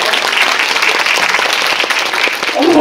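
An audience at a cinema talk after a Korean film screening claps in sustained, dense applause that fills the hall, loud and continuous throughout.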